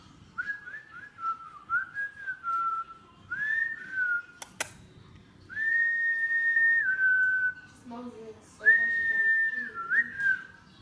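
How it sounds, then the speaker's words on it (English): Someone whistles short melodic phrases in a quiet room, with pauses between them and one sharp click partway through. "I don't know why she likes watching my whistle."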